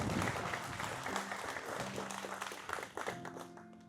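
Audience applause for a beekeepers' hurricane relief event organiser, a dense sustained round of clapping from a crowd that slowly thins toward the end.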